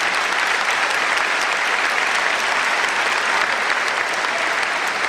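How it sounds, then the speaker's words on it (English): A graduation crowd gives the parents a sustained round of applause, dense, loud and steady throughout with no break, for the Class of 2014 ceremony at Southland College Prep. "How about a round of applause for the parents?"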